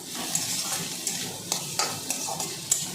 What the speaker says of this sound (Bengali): আর বেশ কিছু সময় আবার একটু নাড়াচাড়া করে নিয়ে